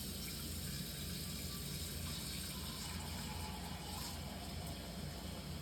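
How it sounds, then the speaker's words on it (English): Tap water gushes steadily into a cooking pot being filled about half full for macaroni, a soft continuous rushing with no talk over it. "filling up our pot about half full with water"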